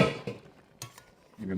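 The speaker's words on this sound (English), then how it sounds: "Give him a quick stir." Ginger chicken being stirred in a pot, with a few brief scrapes and clinks of a utensil against the metal, close and moderately loud, spread across a short moment.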